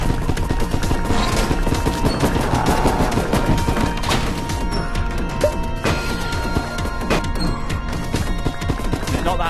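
Rapid gunfire in the video game Jolly Battle, a VR quest title, crackles continuously in dense bursts with sharp impacts and crashing hits throughout, loud and close with no talking.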